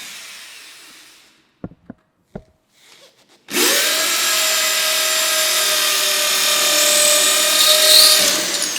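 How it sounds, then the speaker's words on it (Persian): A power drill bores holes into a wall to mount a radiator bracket, loud and close with a steady high whine that runs unbroken for about five seconds, after a few sharp knocks and light handling clatter. "خب این قسمت سوراخ‌کاریتون رو انجام میدید"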